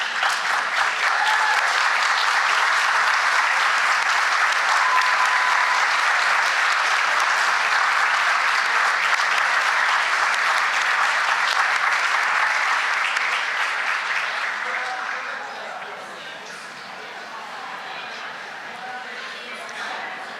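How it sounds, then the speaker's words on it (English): An audience at an honors and awards ceremony applauds in a broad, sustained wash of many clapping hands that holds steady for about fifteen seconds, then thins and softens toward the end. "give them a nice round of applause if you would"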